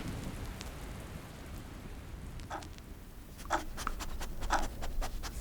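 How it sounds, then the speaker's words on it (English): Storm with heavy rain in an audio drama, a dense steady hiss of downpour with sharp drops and spatters hitting a surface close by, growing busier toward the end, no voices. "the sound of the storm drowned out all else"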